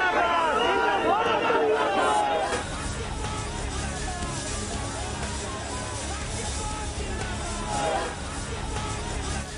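A dense, agitated crowd at a protest fills the scene with overlapping chatter and shouting, loud and continuous throughout, with a surge of raised voices near the start and again toward the end.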